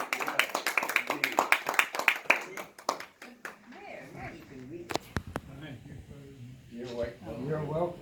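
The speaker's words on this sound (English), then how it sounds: "Can we clap?" A crowd claps for about the first three seconds at a military service presentation, a loud, dense patter of hands that fades out, followed by people talking with a few sharp sounds in the background.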